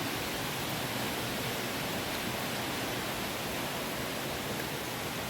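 Steady rushing water of a river in Jamaica, a dense, even broadband wash that runs loud and unbroken close by, with no voices over it.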